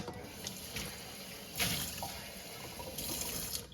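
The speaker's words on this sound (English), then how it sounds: "pour 50 milliliters of water over the tablet" Water pours briefly over a tablet inside a Lomi kitchen-scrap composter, a soft close splash and trickle in a quiet room with a slightly stronger burst midway.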